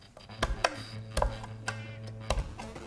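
Raw garlic being chopped with a kitchen knife on a board for ceviche, giving a series of crisp, close blade taps in an uneven rhythm under a steady low hum.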